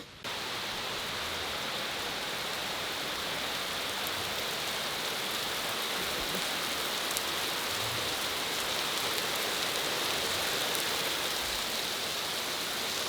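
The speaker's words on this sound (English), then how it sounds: "The rain slowed down right now too." Steady rain from Hurricane Ida falling in a constant dense hiss, moderately close and unbroken, with no voices heard.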